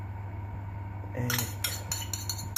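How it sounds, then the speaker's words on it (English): A spoon scrapes and clinks against a bowl while egg and sugar are mixed for chocolate brownies, a few bright taps and scrapes over a steady low background hum, close and fairly quiet. "just mix it through till completely mixed."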